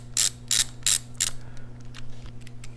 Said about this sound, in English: we can then go ahead and turn our adjuster and lower it all the way down